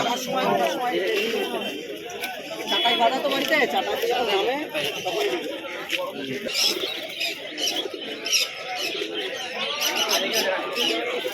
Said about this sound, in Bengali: এইখানে এই পায়রা বিক্রেতাদের কাছে খুব সুন্দর সুন্দর ম্যান্ডাস এবং গ্রিবাজ পায়রা রয়েছে